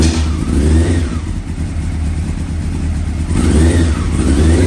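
A motorcycle engine with an old regulator rectifier fitted idles and is revved close by. A loud, steady mid-pitched engine note swells and eases as the throttle rises and falls, with no voices.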